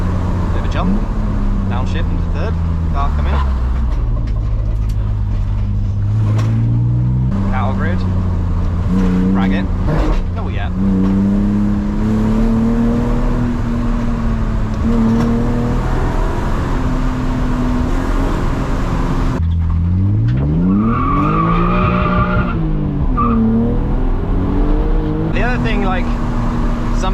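Engine-swapped BMW E36 Compact with a welded differential driving hard on a damp country road, engine note rising through the gears, then a sharp downshift with a swooping rev blip near the end, loud and close throughout.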